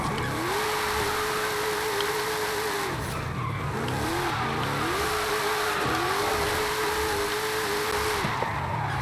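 A 1974 Holden Sandman HQ panel van with a 1,750-horsepower all-wheel-drive drift tune slides through Forza Horizon 5. A loud engine holds steady high revs through several long drift passes, with brief dips as the throttle lifts between them and constant tire noise underneath.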